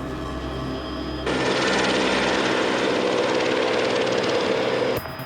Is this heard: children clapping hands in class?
no